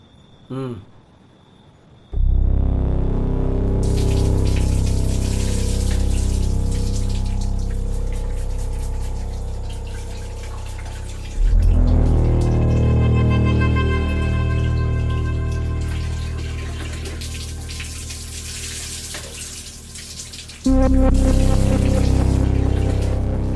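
Water splashing and pouring as someone bathes at home, loud and continuous with a rushing, tap-like flow that swells in two bursts, with faint voices now and then.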